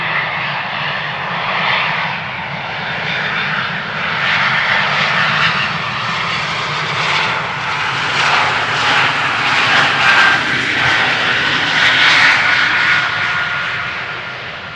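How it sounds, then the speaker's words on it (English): An Embraer 195 E2 jet taking off from the Polderbaan runway 36L at Amsterdam Schiphol Airport, a loud sustained engine roar that swells and wavers over about fifteen seconds, no talk. "the second of the two consecutive E2 Embraer 195s taking off"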